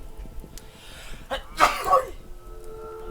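A single sharp sneeze bursts out in a quiet room during a Choo Choo Charles horror game session, a brief loud noisy burst followed by a softer trailing breath, with nothing else around it.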